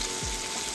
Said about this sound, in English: I wanna make sure this has enough room for me to sear all ends of it.